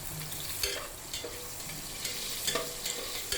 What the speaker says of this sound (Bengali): পেঁয়াজটাকে খুব ভালোভাবে নেড়ে চেড়ে বেরেস্তা করে নিতে হবে।